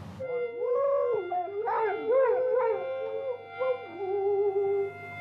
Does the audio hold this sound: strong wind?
no